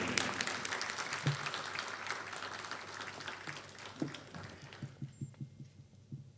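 Audience applause at a stage event in honour of actor Govind Namdev, a dense, steady roar of clapping for several seconds that thins out into scattered, rhythmic low thumps at the end.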